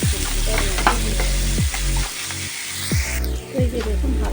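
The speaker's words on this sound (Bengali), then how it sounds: "দিয়ে এটাকে হালকা ভাজা ভাজা করবো" Chicken fries with salt in a hot pan, giving a loud, continuous sizzle with repeated scraping strokes as a spatula stirs the pieces close by.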